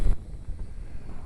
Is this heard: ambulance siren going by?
no